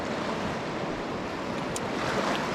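Cold water of the Paria River swirls and rushes steadily around a hiker wading knee-deep, a continuous broadband wash with a little wind noise and no talk.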